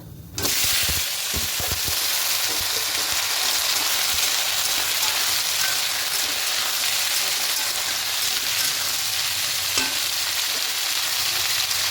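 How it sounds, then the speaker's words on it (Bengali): Vegetables fry in a hot pan over tempering spices with a steady, loud sizzle throughout, after a brief clatter as they drop in at the start. "ঢাকা দিয়ে সবজিগুলোকে হালকা করে একটু ভেজে নেব"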